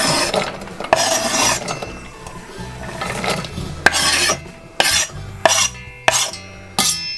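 Onion going into a pan with butter and a little rice bran oil for beef rump pies, heard as loud close scraping and clattering of a utensil against the pan over a low sizzle, with sharp knocks near the end.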